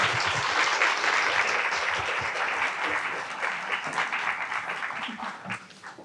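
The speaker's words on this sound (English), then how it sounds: "Please give them a round of applause." Audience applause at a wage equity impact awards briefing, a dense, steady round of clapping from a crowd that holds strong throughout and thins slightly toward the end, with no talk over it.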